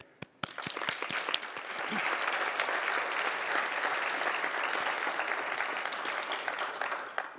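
A crowd at a college commencement claps steadily in sustained applause after a few isolated claps at the start, fairly loud and continuous before tapering off.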